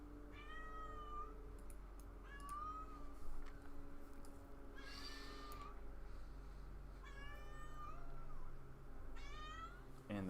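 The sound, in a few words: cat meowing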